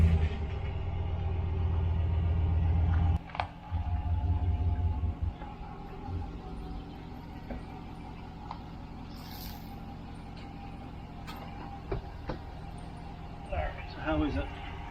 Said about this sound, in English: I'm going to back the truck up.